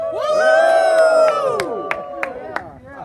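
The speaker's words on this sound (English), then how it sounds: "just give me a cheer." A small group lets out a loud, close cheer of whoops and shouts that fades away, followed by a few sharp claps.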